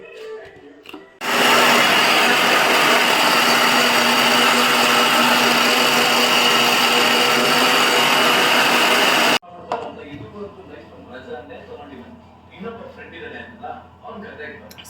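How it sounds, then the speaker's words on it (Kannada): A mixer grinder blends chilled muskmelon with sugar and cardamom, roaring loud and steady for about eight seconds before cutting off abruptly, followed by quieter kitchen sounds and faint talk. "ಕರ್ಬೂಜಕ್ಕೆ ಸಕ್ಕರೆ ಮತ್ತು ಏಲಕ್ಕಿ ಹಾಕಿ ಇವಾಗ ಮಿಕ್ಸಿ ಮಾಡ್ಕೊತಾ ಇದ್ದೀನಿ"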